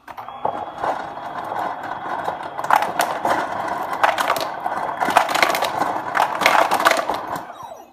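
Ice cubes clatter and crunch as they are dropped into a blender for a thick superfood shake, giving a steady run of near, fairly loud rattling with sharper bursts of tumbling cubes throughout.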